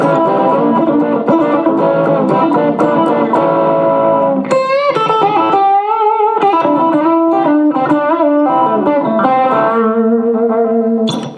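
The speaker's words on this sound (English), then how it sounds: "Kick in the distortion a little bit. This is a uke, by the way." A Risa TE-432 electric ukulele played through distortion, loud overdriven strummed chords followed by sustained bent single notes and short riffs, with no talking over it.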